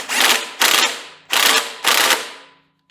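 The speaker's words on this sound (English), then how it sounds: "Let me get my impact real quick and run them in" A pneumatic impact wrench hammers bolts in during an engine install, four loud rattling bursts of under a second each with brief pauses between, close and alone.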